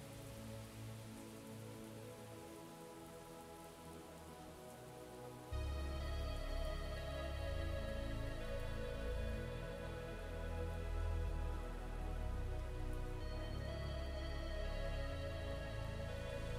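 Steady rain falling through a music video for a song, a continuous soft hiss that grows louder and denser partway through as low musical drones and tones join in.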